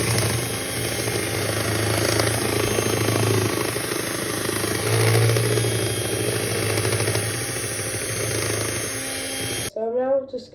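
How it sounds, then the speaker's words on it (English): An electric whisk whirs steadily as it mixes chocolate sponge cake batter, a continuous motor hum under a slight rattle that cuts off abruptly near the end. "Okay guys, I'm now doing my whisking."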